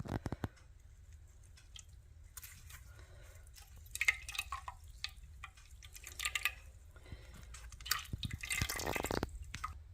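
Liquid from oat mash drains out of cheesecloth, faint drips and small trickles with soft squishy handling noises, quiet and close in an otherwise still room.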